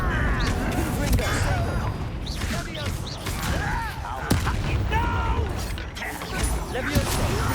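Explosive Confringo fire-spell blasts go off in Hogwarts Legacy combat, booming bursts mixed with whooshing magic effects and a voice in the game over a busy battle.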